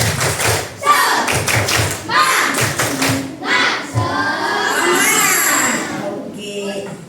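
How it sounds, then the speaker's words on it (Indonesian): Elementary schoolchildren in a classroom do a rhythmic spirit clapping chant, bursts of patterned claps and thumps mixed with the children's voices chanting along, loud and close throughout. "Tepuk semangat."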